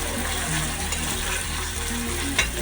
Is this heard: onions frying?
yes